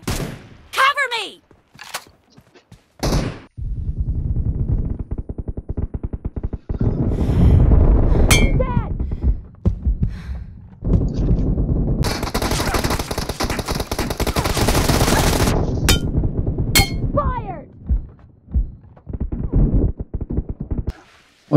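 A PUBG Mobile team deathmatch on the 1.7 update carries long, loud bursts of automatic gunfire that are near and sustained, mixed with metallic clangs, short in-game voice callouts and spoken talk between the bursts.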